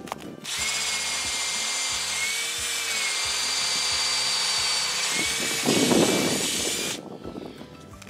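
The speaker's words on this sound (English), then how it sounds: "I'm going to drill my tap hole about maybe 2 inches" A power drill bores steadily into a maple tree for several seconds, drilling a tap hole about two inches deep, a loud continuous whine with a brief rougher grinding stretch before it stops.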